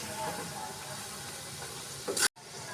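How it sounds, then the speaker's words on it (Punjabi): Peanut pakoras deep-fry in hot oil over a medium flame, giving a soft continuous sizzle, quiet and steady, with a brief louder stir just before a sudden cut. "ਇਹਨਾਂ ਨੂੰ ਮੀਡੀਅਮ ਫਲੇਮ ਤੇ ਤੁਸੀਂ ਫਰਾਈ ਕਰਨਾ ਹੈ ਤਾਂ ਕਿ ਅੰਦਰ ਤੱਕ ਇਹ ਕ੍ਰਿਸਪੀ ਹੋਣ"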